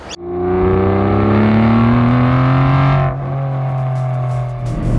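An Aston Martin Vantage V12 S drives with a loud, close V12 engine note that climbs steadily in pitch under acceleration for about three seconds, then drops to a lower, steadier drone as it eases off.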